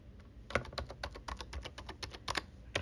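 Keystrokes on a computer keyboard as a terminal command is typed, a quick run of about fifteen crisp clicks in an irregular rhythm, close and alone with no voices.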